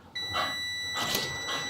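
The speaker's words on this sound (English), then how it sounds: "a very sensitive metal detector. Yeah. That picks up AC wiring" A very sensitive metal detector set against AC wiring gives off a steady electronic tone that starts abruptly and holds, with brief swells in loudness.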